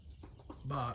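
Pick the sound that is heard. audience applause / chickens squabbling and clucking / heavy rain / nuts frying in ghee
chickens squabbling and clucking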